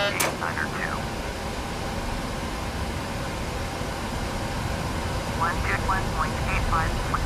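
An airliner in Microsoft Flight Simulator X rolls for takeoff with a steady, loud engine roar and broadband wind noise, while radio-style voices talk faintly over it at the start and end.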